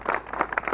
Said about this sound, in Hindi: आप लोग तालियां बजा दीजिए इसके ऊपर ज़रा